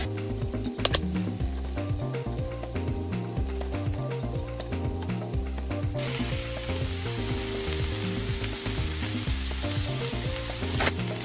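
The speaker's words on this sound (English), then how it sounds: "now we're going to cook the vegetables for 3 to 4 minutes until they get a little bit tender" Vegetables fry in sesame oil in a pan, a steady dense sizzle with scattered crackles and light stirring scrapes, close and continuous, growing brighter and hissier partway through.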